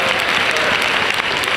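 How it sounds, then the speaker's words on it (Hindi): Dense, sustained applause from an audience at an India Day Parade event in New Jersey welcoming a child to receive an award, steady and loud throughout with no break. "जोरदार तालियों से आरना का स्वागत कीजिए."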